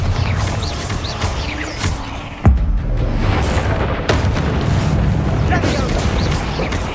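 Confringo and Bombarda spells in Hogwarts Legacy burst in loud, booming blasts, one sharp impact standing out among dense crackling combat noise while a voice shouts spell names.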